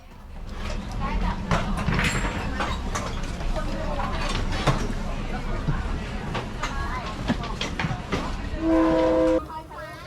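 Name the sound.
train passing through market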